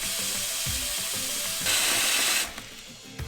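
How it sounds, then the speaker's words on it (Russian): Water running from a tap into a saucepan in a home kitchen during chocolate melting prep, a steady rushing stream that brightens as the pot fills, then cuts off near the end. "Набираем воду в кастрюлю."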